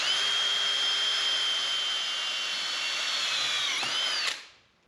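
A power tool runs bolts into the foot pegs of a tracked minibike, one long steady whine held for about four seconds that wavers near the end and then cuts off and fades, close and loud with no talk.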